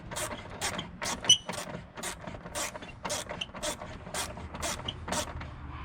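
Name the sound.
tightening Subaru Crosstrek battery hold-down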